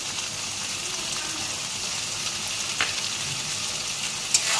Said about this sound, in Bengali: এবারে কষিয়ে নেব একটু।